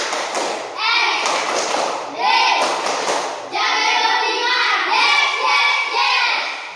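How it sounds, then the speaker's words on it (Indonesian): Children in a morning classroom clap out the tepuk semangat rhythmic chant together, bursts of sharp group claps and chanted voices in repeated phrases, loud and close. "Tepuk semangat."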